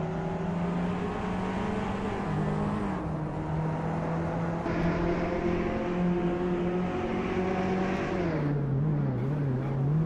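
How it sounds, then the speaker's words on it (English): A 2003 Seat Leon Cupra R hot hatch races in a video game, its engine droning steadily with rising and falling revs, close and loud with no talk. "Bot Salmon is driving a 2003 seat Leon Cupra R, a modern hot hatch."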